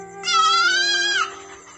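A goat kid bleats once in a long, wavering, strained cry lasting about a second, loud and close, with faint background hum.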